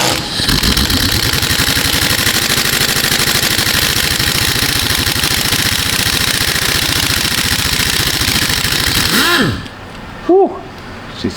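An impact wrench rattles loudly and continuously for about nine seconds, backing a small screw out of a 2014 Chevrolet Tahoe's corroded suspension, then cuts off, leaving a couple of short bursts and quieter shop sounds.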